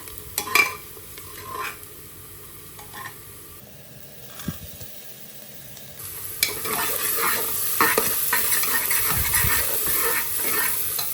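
Crushed ingredients are stirred into browned onions frying in a pan for a vegetable biryani, with close spoon scrapes and taps over a hiss of sizzling that grows louder and steadier, no talking.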